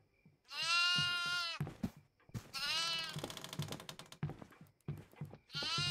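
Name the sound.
goat bleating in the video game Devour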